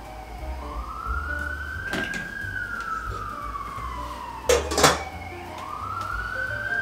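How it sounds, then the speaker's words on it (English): Emergency vehicle siren wailing outside, rising and falling in a slow steady sweep, heard from indoors at moderate loudness over a low hum, with a couple of brief bumps partway through. "The sirens are so loud."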